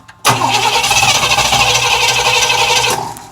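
A Cadillac Eldorado Biarritz cranking over from cold: a sudden loud start, then about three seconds of steady, rough engine running close by before it dies away.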